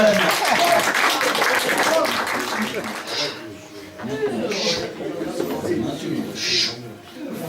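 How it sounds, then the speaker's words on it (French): Audience at a French stage hypnosis show breaking into applause, dense clapping at first that thins out, with a voice speaking over and after it through a microphone. "on applaudit Cyril qui rentre au Guinness des kleptomanes"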